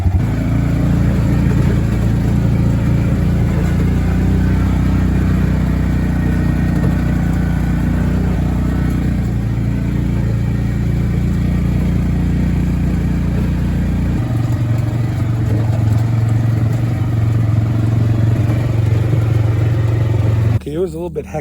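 A Jeep grinds up an off-road trail with its engine droning steadily and close, the pitch holding low and even, then dropping to a quieter idle near the end.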